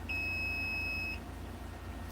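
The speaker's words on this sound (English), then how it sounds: "Put it on the little speaker there, and when these two touch, it beeps." A single clear electronic beep from a continuity tester, steady and high-pitched, lasts about a second, then cuts off, leaving a low background hum.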